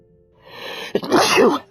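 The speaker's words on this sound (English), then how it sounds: "I'm gonna sneeze." A single sharp sneeze, preceded by a brief inhale and a small catch of breath, close to the microphone.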